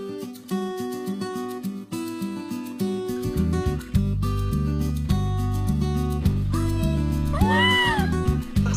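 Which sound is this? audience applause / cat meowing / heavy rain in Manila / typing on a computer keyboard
cat meowing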